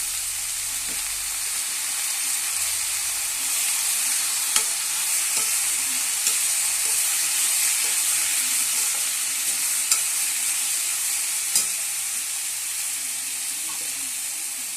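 Chicken stirred and fried in a pot for soup, a continuous close sizzling hiss with occasional sharp clinks of a utensil against the pan, no voices.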